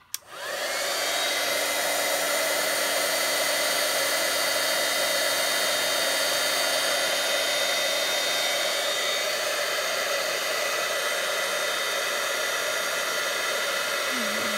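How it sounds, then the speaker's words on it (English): A steady, loud rush of blowing hot air from a heat embossing tool, starting abruptly and droning continuously with a faint hum, no talking. "going to use the heat tool to heat emboss this"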